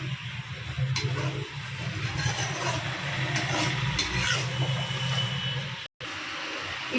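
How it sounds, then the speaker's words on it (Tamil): A pot of Tamil-style fish curry boils steadily, a continuous bubbling hiss with faint ticks, close by and fairly even throughout. "இப்போது மீன் போட்டு ஒரு ரெண்டு நிமிஷம் குழம்பு நல்லா கொதிக்கட்டும்"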